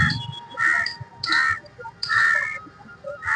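Crows in a Delhi park give loud, harsh caws in repeated bursts of two or three calls, close overhead, with faint background ambience between them.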